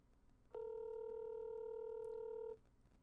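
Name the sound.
telephone ringing tone while calling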